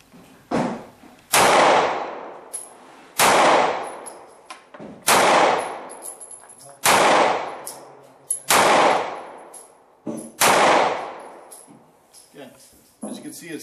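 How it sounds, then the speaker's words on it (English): A Sig P938 pistol is fired, seven sharp loud shots at a slow, fairly even pace, each followed by a ringing decay, with faint clinks between them. "I'm going to shoot the 938 first so you guys can get an idea on a recoil"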